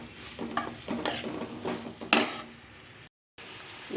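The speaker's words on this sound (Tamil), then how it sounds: "இந்த இஞ்சி பூண்டு பேஸ்ட்டை சேர்த்து கொஞ்சம் நல்லா வதக்கி விடுவோம்." Ginger-garlic paste is stirred and scraped in a hot pan while making a jackfruit masala curry, giving several soft, close stirring scrapes over a low sizzle, with a brief silent gap near the end.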